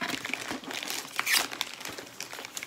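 Crinkling of plastic packaging as a small subscription box with a fragile sticker is opened, with soft continuous rustling and crackling close by, fairly quiet throughout.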